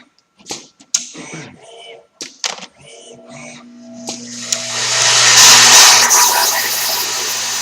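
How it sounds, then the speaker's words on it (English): A vibratory feeder bowl on a homemade robot machine buzzes into action after a few sharp clicks and clatters, its steady humming drone swelling and holding alongside a hiss of rattling parts. "The feeder bowl just fired because its sensor on the top of that rack up on the top right there just showed it was out of parts."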